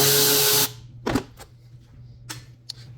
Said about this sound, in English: we're going to take off this 8mm bolt